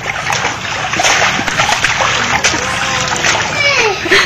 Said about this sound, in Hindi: एक पिता अपने बेटे को लेकर पानी के अंदर डाइविंग कर रहा है।